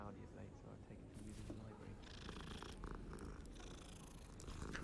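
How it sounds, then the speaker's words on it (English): A cat purrs in the video game Hogwarts Legacy, a soft, continuous rumbling drone held steady for several seconds, with faint voices and game sounds around it. "Although the cat in this game looks a little creepy."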